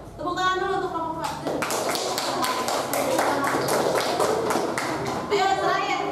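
Classroom applause for a student group after their presentation, a burst of many hands clapping in a dense, steady patter for several seconds, with speaking voices before and after it.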